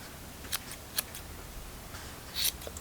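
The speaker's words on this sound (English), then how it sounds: "Use your scissors to groom a little bit" Scissors snip fur while trimming a sewn plush tiger, a few quiet, separate crisp cuts spaced apart over faint room noise.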